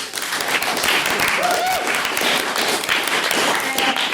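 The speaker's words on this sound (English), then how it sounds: "can we have another round of applause for his maiden speech?" A crowd at a student debate gives a round of applause for a maiden speech, the clapping continuous and fairly loud, with a faint voice briefly audible within it.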